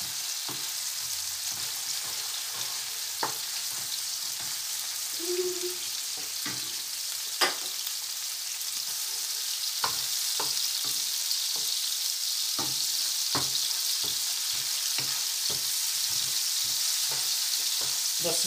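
Onion with garlic-ginger paste frying in a pan for an aloo samosa filling, a steady soft sizzle with occasional stirring clicks and scrapes of a spoon, close and continuous with no talking.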